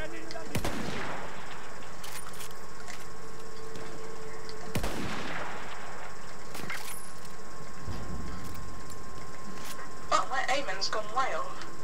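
Sniper rifle shots from Battlefield 1 gameplay ring out as a few sharp, loud cracks several seconds apart, with quieter mechanical clicks and distant battle noise between them. A voice can be heard faintly in the background.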